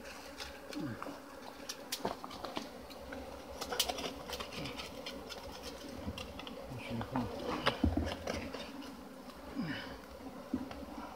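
Italian honey bees buzz outdoors while being captured among stones, a scattered, shifting drone of wings passing close and away, with birds cooing and chirping in the background.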